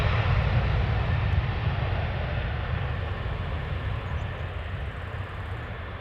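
Airplane engines at Amsterdam Schiphol Airport hold a steady, heavy low roar with broadband rumble for several seconds, loud and continuous, easing only slightly toward the end.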